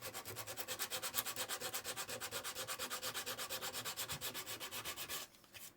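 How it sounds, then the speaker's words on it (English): Emery cloth rubbed back and forth over a 3D-printed PETG part, 80 grit, in steady rapid scratchy strokes close by, roughly two per second, stopping abruptly near the end with a quieter rasp. "instead of regular sandpaper, this is emery cloth."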